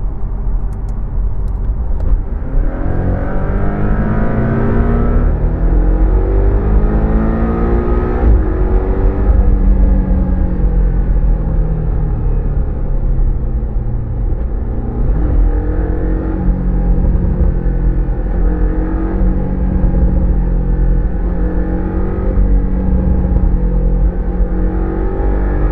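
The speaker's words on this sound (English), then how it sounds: "comes with a sports exhaust and a button which is supposed to change something to the way it sounds" A Porsche 718 Cayman T with a sports exhaust, heard from outside, drones and revs in rising and falling sweeps, a steady engine rumble throughout with no talk.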